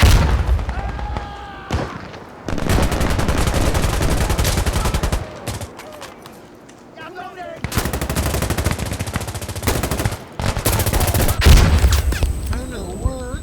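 Dense automatic gunfire fills a match of the video game Insurgency Sandstorm, with rapid bursts of rifle and machine-gun fire and sharp impacts almost continuous throughout. Brief gaps break it up, and a player talks now and then.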